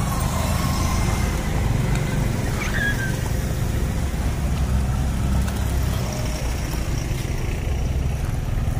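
Tourist car at the Gunung Mas rest area in Puncak, Bogor, idling and rolling past with a low steady engine rumble amid outdoor ambience, moderately distant and fairly even throughout.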